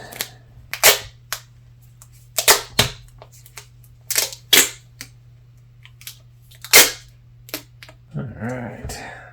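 Duct tape being pulled and wrapped around a part of a handmade duct-tape excavator model, heard as a series of sharp ripping and crackling bursts at irregular intervals over a steady low hum, ending in some rustling.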